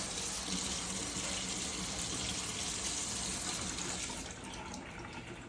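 Tap water runs in a steady, close gush while something is washed under it in a garden, easing slightly toward the end.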